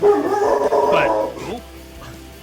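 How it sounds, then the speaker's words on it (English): A dog howls and yips briefly and close by, a wavering whimpering cry that fades out quickly, with people talking around it. "that's a dog"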